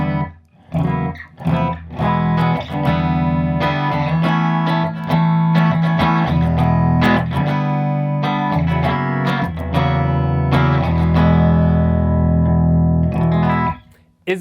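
Clean electric guitar played through a Quilter Mini Reverb 101 amplifier, a run of picked notes and chords ringing with slight room ambience before a brief pause at the end.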